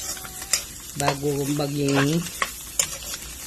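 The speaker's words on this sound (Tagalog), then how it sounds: "nararamdaman nyo na po yung tunog ng baga sa kakaprito" Steady sizzle of lungs frying in a pan for kilayin, with a few sharp clicks and pops, and a brief tonal hum in the middle, no talking.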